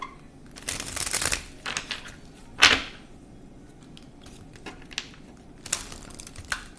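Tarot cards being shuffled in short bursts of papery riffling and slapping, with brief pauses between shuffles; no talking.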